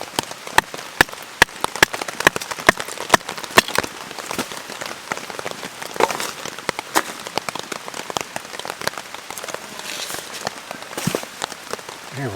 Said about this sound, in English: if the rain stops, which sounds like it's slowing down